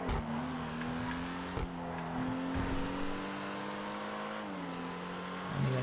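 The Spectre Custom sports car in GTA FiveM races on with a sustained engine drone that shifts pitch as it holds high revs, with a brief tire squeal or clunk partway through, loud and continuous.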